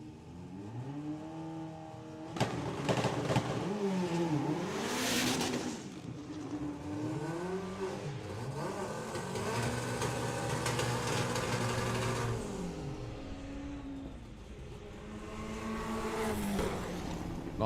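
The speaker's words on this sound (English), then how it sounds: "One place behind him is Ollie Whitehouse with the now turbocharged VW Beetle, looking for a 12 flat." A turbocharged VW Beetle makes a drag racing run at Bug Jam, its engine revving hard through rising and falling gear sweeps, loud and sustained with the snarl of other cars around.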